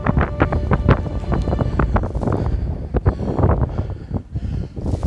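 Strong gusting wind at Fulufjället National Park buffets the microphone in loud, uneven rumbling bursts.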